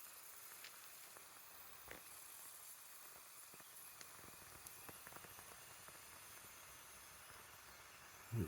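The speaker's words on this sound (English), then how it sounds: "I can hear a bit of steam." Steady faint hiss of steam escaping from a Mamod toy steam locomotive on its first firing, a soft continuous sizzle with small clicks and a brief louder knock at the end.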